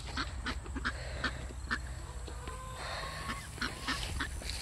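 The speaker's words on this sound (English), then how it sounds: "the ones inside the cage that you see over here are the chickens" Chickens and roosters in a cage give repeated honking, squawking calls in an uneven rhythm over a low, steady background, fairly close.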